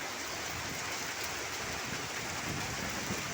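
Rain falls steadily as a dense, even hiss of drops hitting surfaces, constant and moderately quiet for a few seconds with no other sounds.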